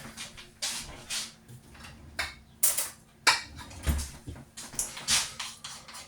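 A spoon stirs summer pasta in a pan with a run of close, irregular scrapes and clinks, about a dozen knocks in steady succession at moderate loudness, with no talk.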